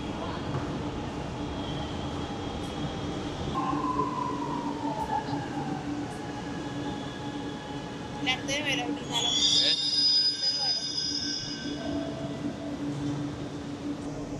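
A Chennai Metro train at a station platform gives a steady mechanical hum with rising tonal whines and a brief high-pitched squeal from the wheels or doors, while people talk nearby.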